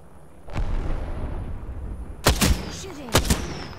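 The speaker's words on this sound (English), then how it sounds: "Shooting." Video game gunfire during a two-team fight: a soft single shot early, then two loud clusters of sharp reports, each a quick double crack, close and clear over a low ambient rumble.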